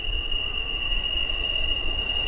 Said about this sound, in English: Now you get to hear the sound of the train coming through.